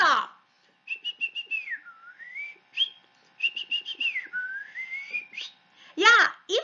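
High, whistle-like bird-call phrases from The Birds in Carnival of the Animals: trilling and gliding notes in short bursts separated by pauses, with a brief voice near the end.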